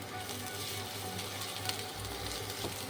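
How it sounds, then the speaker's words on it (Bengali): Lightly salted vegetables fry gently in oil in a pan for fried instant noodles, a soft, steady sizzle at low volume. "খুব বেশি ফ্রাই হবে না, হালকা ফ্রাই।"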